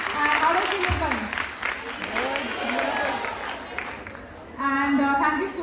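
Audience applause at a grooming and makeup masterclass, moderate clapping running under and between a speaking voice, with talk resuming near the end.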